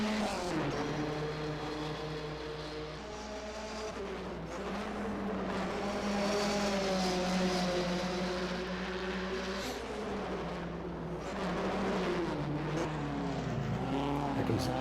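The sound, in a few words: race cars passing on track in a racing video game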